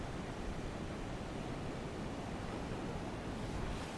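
Surf rolls onto Marina Beach in Chennai as a soft, continuous wash of broadband noise, fairly quiet and even, with faint wind and no voices.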